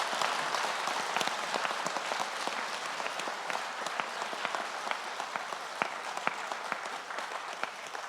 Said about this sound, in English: a big round of applause for our top 11 candidates